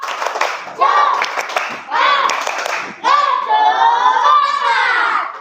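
Children in a classroom clap together in a rhythmic group clapping routine, the bursts of hand claps mixed with their chanting voices in three loud phrases.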